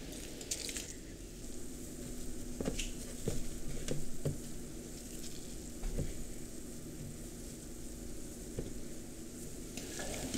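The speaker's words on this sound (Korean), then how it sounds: "아까 걸러 놓았던 밑술에 고두밥을 넣어서 정말 잘 섞어줍니다" Steamed rice is mixed by hand into a strained makgeolli starter, a soft, close, wet squishing and patting that runs steadily with small sticky clicks throughout.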